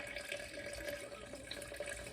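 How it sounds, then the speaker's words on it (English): Water is poured from a tap into a bowl sitting on a kitchen scale while sourdough dough is mixed. A continuous close splashing trickle runs for a couple of seconds without talk. "So I'm going to pour the water right in here, and I'm looking at the scale."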